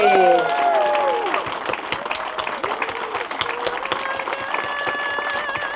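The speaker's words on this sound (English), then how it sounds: "Can we give her a round of applause for this amazing feat?" An audience gives a round of applause after a presentation on friendship among women, a steady wash of clapping with scattered voices that starts strongest and carries on at an even level.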